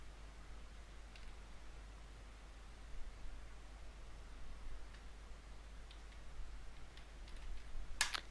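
Faint, sparse keystrokes tap on a computer keyboard in a quiet room with a low steady hum, a few isolated clicks, then a quick cluster at the end.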